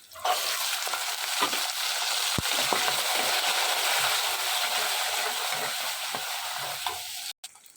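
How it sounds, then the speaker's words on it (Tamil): Shallots, green chilies and garlic sauté in hot oil for a Tamil garlic kulambu, a steady close sizzle with occasional stirring scrapes that carries on without pause, then briefly cuts out near the end. "சின்ன வெங்காயம் பச்சை மிளகாய் வதங்கிடுச்சு"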